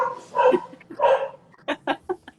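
Several dogs bark and yip in quick bursts, a couple of longer barks followed by sharper short ones, fairly close.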